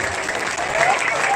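Audience applause breaks out after a recitation, a steady dense clapping from a crowd that swells slightly louder toward the end.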